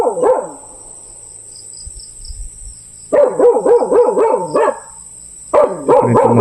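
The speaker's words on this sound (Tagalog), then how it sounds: "Dahil tumatahol na siya." A dog barking near a nipa hut in the countryside, a burst of barks at the start, then two longer runs of rapid repeated barking, with insects buzzing steadily underneath.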